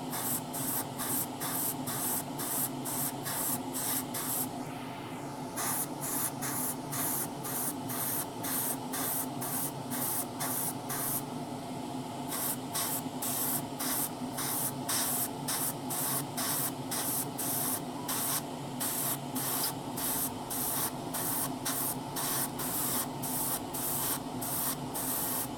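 A 1:12 Tamiya Yamaha YZF-R1M model swingarm gets spray painted in a continuous close hiss. Rapid regular pulses run through it for nearly half a minute, with brief dips where the spray eases, and no voices.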